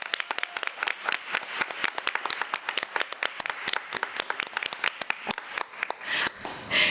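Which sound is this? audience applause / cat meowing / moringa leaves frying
audience applause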